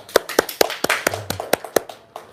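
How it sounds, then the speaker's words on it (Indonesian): An audience claps hands in response to a call for applause at a talk: a run of sharp, separate claps at an uneven pace, fairly close and loud, with no speech over them. "Tepuk tangan dulu dong."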